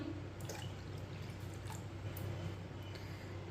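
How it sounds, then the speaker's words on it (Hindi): Water poured into semolina for halwa in a kitchen, with faint splashing and dripping over a low background hum, several brief liquid clicks and trickles scattered through, quiet and close without speech. "एक प्याली मैंने सूजी ली थी, 3 प्याली पानी डाल लेंगे।"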